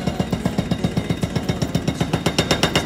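A jackhammer pounds at a construction site on a Montreal street, a loud, steady, rapid hammering of evenly spaced impacts heard close up without pause.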